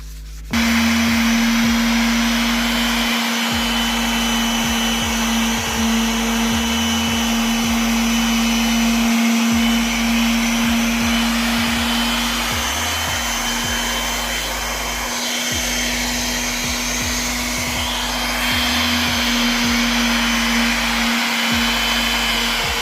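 A steady, loud motorized whir with a constant hum runs throughout, its pitch wavering slightly, as a power sander grinds a Mk1 Volkswagen Golf wheel rim during repair.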